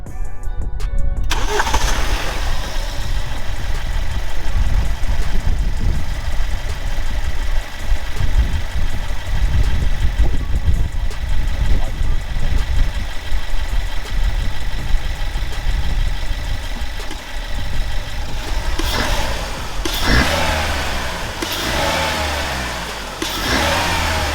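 A BMW 1 Series engine with a new air filter cranks and catches, then settles into a steady idle with some revving, loud and close throughout.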